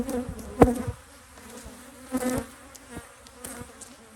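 Honey bees buzz around a hive in an apiary, a steady close drone with sharp louder whines as individual bees fly past the microphone.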